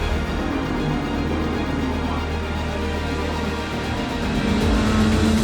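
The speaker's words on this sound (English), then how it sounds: "The Lamborghini goes sailing through and Wieshofer is back in the lead" A Lamborghini race car at Zandvoort circuit roars past, a loud sustained engine drone that holds steady and then shifts in pitch near the end as the car moves on, with no voices.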